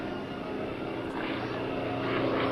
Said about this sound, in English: his one-of-a-kind Yak 55 flying for us this afternoon